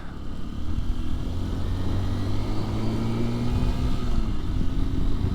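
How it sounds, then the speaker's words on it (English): A Honda XR150L motorcycle downshifting into a curve on a snowy road: a steady engine drone with rising and falling tones as the revs change, heard close over continuous wind noise. "we're gonna downshift into curve, people"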